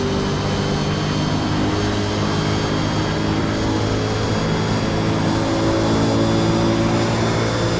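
V8 Supercar engine held at full throttle on the Daytona oval in iRacing, a loud, steady high-revving drone with constant harmonic whine over several seconds, alone with no other cars.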